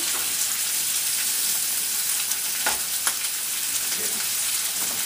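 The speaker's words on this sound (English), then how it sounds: "this will go for a couple minutes just to get a nice dark sear on it" Pork ribs sear in a hot pan with a loud, continuous sizzle and a few sharper pops and crackles, no voices.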